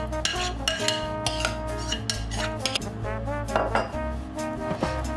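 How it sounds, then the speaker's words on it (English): Spoon and spatula scrape and clink against a metal pan as potato mixture is spread evenly over ground beef for shepherd's pie, a busy run of close taps and scrapes with no voice. "Then spread the potato mixture on top."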